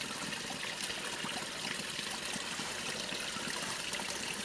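Water cascades down from a spring well, making a steady, dense rushing and trickling wash that continues evenly throughout without a break.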